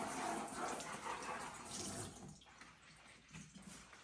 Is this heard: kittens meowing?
no